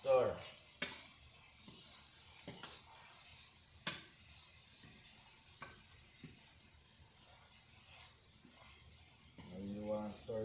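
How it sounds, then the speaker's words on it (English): Ackee and saltfish are stirred and mashed in a pot, with repeated sharp spoon knocks against the pot at irregular intervals over a quiet background and a faint voice near the end. "And you want to stir to mash up the ackee"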